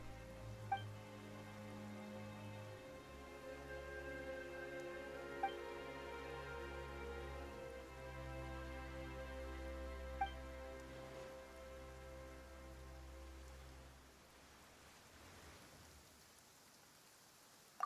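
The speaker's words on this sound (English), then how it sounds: "Why is it raining all of a sudden?" Steady rain patters on surfaces in the video game Genshin Impact, a soft continuous wash under sustained background music with a few faint clicks, fading out near the end.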